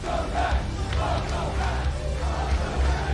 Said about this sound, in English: We get a welcome back chant from the crowd